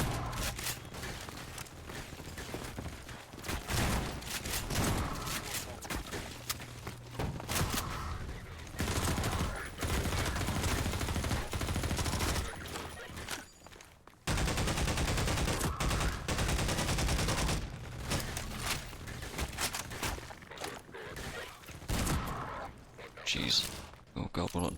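Gunfire in the video game Half-Life 2: MMod comes in dense, loud bursts and sustained volleys with brief pauses, while a person talks over the combat.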